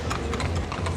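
Horses walk on pavement at an outdoor political rally, producing a brisk, close run of overlapping hoof clops in an irregular rhythm, with no one talking over them.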